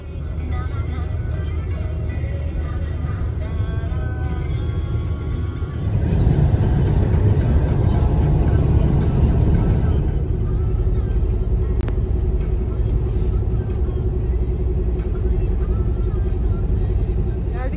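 A car drives along a road, heard as a continuous low interior rumble of engine and tyres. The rumble swells louder for a few seconds midway, then settles back to a steady hum.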